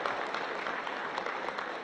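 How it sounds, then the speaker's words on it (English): A short burst of steady applause from a crowd at a Philippine Armed Forces change-of-command ceremony, even and continuous clapping without voices. "A well-deserved round of applause for the outgoing Chief of Staff, General Andres Castor Centino."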